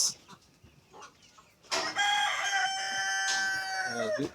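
A few soft clucks come first, then a rooster lets out a long, loud crow close by, followed by more clucking.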